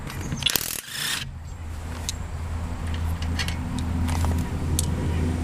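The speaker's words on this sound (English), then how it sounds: "we bought this Spiffy Diffy double throw me down impact gun" Impact gun zipping off lug nuts on a 1939 Ford during a brake upgrade: a sharp loud rattling burst near the start, then quieter mechanical clicks and ratcheting over a low steady hum.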